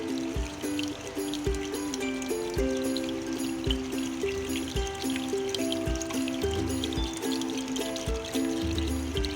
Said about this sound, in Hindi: अब मैं इसमें पानी शामिल करूँगी।